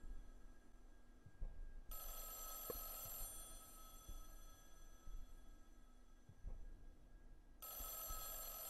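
An old telephone rings in a house in the horror video game Mothered, with two loud bursts of electronic bell ringing over a quiet, dark ambient backdrop with faint footsteps and thuds.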